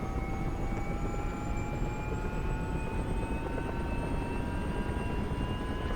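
An OH-6A helicopter in the DCS flight simulator spools up, a steady loud turbine whine with rising tones over a dense rotor and engine roar, continuous throughout.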